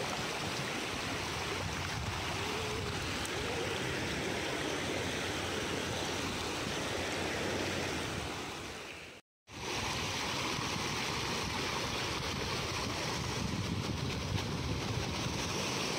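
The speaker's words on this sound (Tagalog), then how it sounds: "Dito kami sa dagat." Sea waves wash steadily onto the beach at Dibba, Fujairah, a continuous broadband roar of surf with a momentary break partway through, no voices heard.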